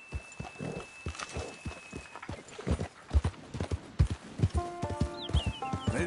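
Rhythmic clip-clop of horse hooves walking at a steady pace in the video game Red Dead Redemption 2, close and clear, with a brief whinny-like tone near the end.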